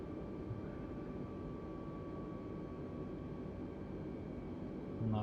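Inside the Flight Simulator 2020 video game, an airplane on landing approach with flaps down gives off a faint, steady engine drone with a constant hum, unchanged throughout and heard alone.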